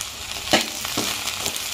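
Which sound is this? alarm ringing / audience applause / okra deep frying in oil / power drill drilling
okra deep frying in oil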